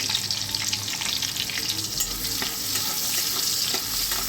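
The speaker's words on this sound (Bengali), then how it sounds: "কড়াতে আমি একটুখানি তেল দিয়ে দিলাম, দিয়ে পেঁয়াজ আর আলুগুলো দিয়ে দেবো।" Diced onions and potatoes sizzle steadily in hot oil in a wok, a loud, continuous close-up frying hiss with occasional stirring scrapes and no talking.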